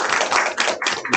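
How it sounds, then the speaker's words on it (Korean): A lecture-hall audience claps together in short, ragged bursts, several rounds of many hands close by, separated by brief near-silent gaps. "박수 한번 쳐보세요."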